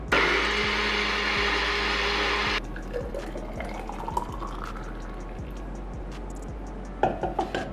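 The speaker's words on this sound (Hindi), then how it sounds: "अब हम इन सबको अच्छे से ब्लेंड करें." A countertop blender whirs loudly as it blends kiwi, oats and water into a smoothie, then cuts off abruptly, leaving quieter drips, clinks and rustling handling noises.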